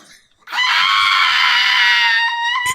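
A small pug lets out a long, shrill, sustained yelling cry, loud and close, after a brief quiet moment, ending with a short sharp sound.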